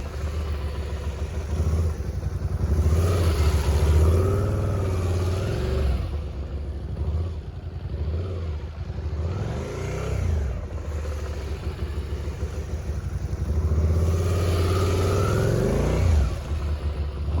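Motorcycle ridden by a new rider practicing slow-speed maneuvers, engine close and loud with repeated throttle blips and revs rising and falling over a steady idle rumble.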